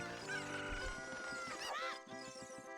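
Chicken clucks and crows from The Legend of Zelda: Ocarina of Time, heard amid a dense layer of game music and effects, with a rising squawk near the middle and steady background tones throughout.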